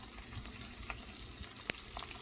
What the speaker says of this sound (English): My bacon frying.